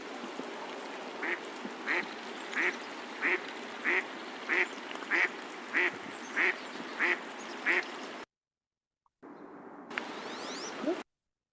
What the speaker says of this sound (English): The American black duck, who's also quacking.